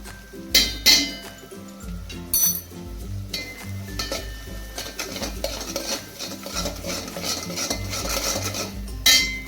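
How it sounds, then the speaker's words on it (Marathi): A spatula stirs spiced curry (bazaar amti) in a metal pan, giving repeated clanks, scrapes and clinks against the pan in an irregular rhythm, loud and close. "उलताण्याने आपल्याला हे हलवत राहायचे आहे"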